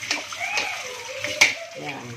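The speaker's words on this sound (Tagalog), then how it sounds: "Habang nagbabantay, maghuhugas tayo ng plato. Siyempre, inuuna ko muna yung mga kawali." Frying pans and dishes being washed in a kitchen, with scattered clinks, scrapes and running water at moderate volume, sometimes under a voice talking.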